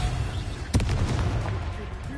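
A single punchy spell blast bursts out in Hogwarts Legacy, a loud thump with a short rumbling tail over low background noise.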